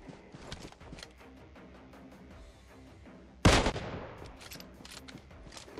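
Gunfire in PUBG Mobile ending in a headshot: faint distant shots tick in the background, then one loud, sharp gunshot cracks out close by and rings off briefly.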